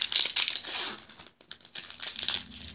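Crinkling plastic wrapper of a Pokemon trading card pack being torn open, close and continuous rustling with a brief pause midway.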